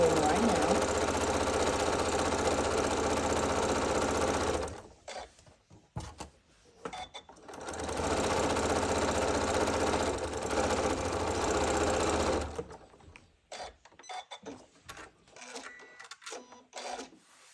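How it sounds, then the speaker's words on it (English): A sewing machine stitching a fabric seam for a wreath, running in two steady buzzing stretches of several seconds each, with quieter handling clatter and pauses between them. "you want to make sure that you go to the ends and sew your seam"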